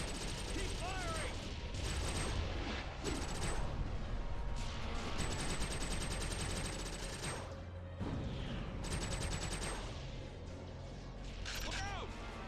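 Sustained gunfire in TimeSplitters: Future Perfect during a defensive battle against attacking Splitters, with rapid repeated shots, mechanical clanks and bright electronic effects mixed with game voices calling out.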